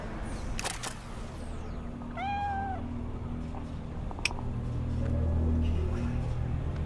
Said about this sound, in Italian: Un gatto!